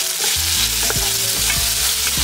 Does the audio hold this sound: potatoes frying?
yes